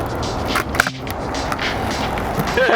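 Skateboard rolling over pavement with shove-it tricks, a steady grinding roll broken by a sharp board clack and thuds as the deck lands, close and fairly loud.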